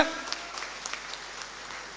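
Audience applause greets a speaker at a DMDK party meeting for booth agents in Vellore district: a steady, moderately faint wash of many hands clapping that continues throughout.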